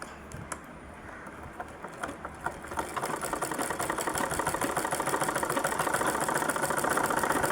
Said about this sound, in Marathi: आता मी डबल शिलाई मारली साधी शिवण